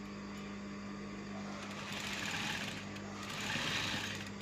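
Sewing machine stitching fabric, a continuous fast mechanical whir with a steady hum, swelling slightly in intensity midway and again near the end, moderately quiet and close with no speech.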